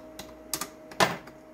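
Typing on a computer keyboard: a few scattered, crisp keystrokes in an uneven rhythm, close by and fairly quiet, with no voices.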